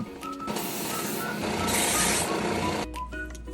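Wooden cabinet pullout handle edges are smoothed with abrasive, a continuous scratchy rubbing and rasping that swells louder midway, over about three and a half seconds of workshop noise.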